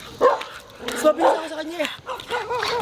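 A dog barks in short, sharp bursts near people talking, the yips mixed in and partly masked by ongoing conversation.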